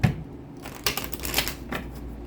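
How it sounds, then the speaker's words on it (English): Tarot cards being shuffled by hand, a few quick papery riffles and flutters close up, with no voices. "One more shuffle, Taurus."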